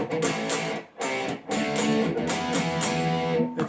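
Power chords strummed on an overdriven electric guitar, thick and distorted, sounding loud and close. Three strummed chords ring out in quick succession, each decaying briefly before the next one hits, and no one speaks.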